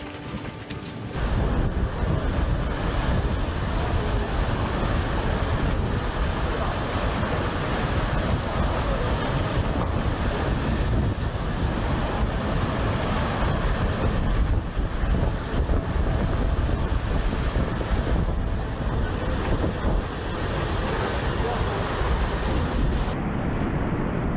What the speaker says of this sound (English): Hurricane Idalia pushed floodwaters upstream, ripping sailboats loose and smashing their masts against a bridge